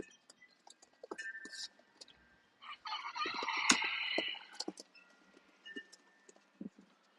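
Live poultry at an auction, scattered clucks and a rooster crowing in the middle, with background shuffling and knocks, fairly faint and intermittent.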